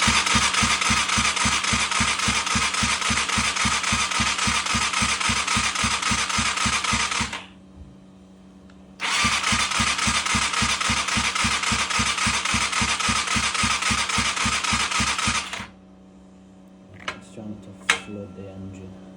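Go-kart engine with the spark plug refitted chugs loudly with a rapid, even pulsing beat, cuts out briefly, then revs up again before stopping, followed by a few clanks and rattles in the quiet.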